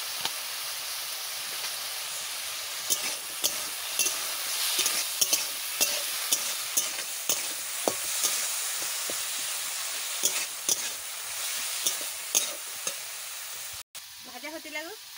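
Spiced potato frying in a pan, a loud steady sizzle with frequent stirring scrapes and clinks throughout and a sudden dropout near the end, no talking.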